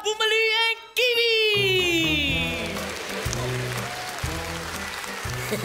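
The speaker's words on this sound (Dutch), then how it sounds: "Een groot applaus voor Boomba, Boomalu en Kiwi!" A children's show audience applauds Bumba, Bumbalu and Kiwi, with scattered clapping that follows a loud rising musical flourish and continues under light background music.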